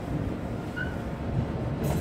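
A metro train rumbles at a station with a steady low roar of rolling wheels and a faint brief squeal, close and continuous throughout.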